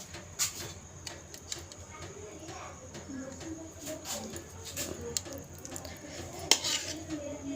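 A spoon scrapes and clinks against a cooking pot while lifting pieces of slow-cooked beef dum pukht, with soft, intermittent metallic taps and scrapes at close range over a faint background hum.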